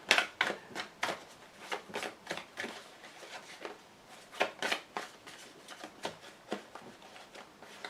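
Lenormand fortune-telling cards are shuffled by hand up close, a quiet series of quick riffling flutters and soft slaps repeating in an uneven rhythm, with no talking.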